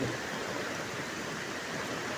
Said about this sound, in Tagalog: malakas po ang tubig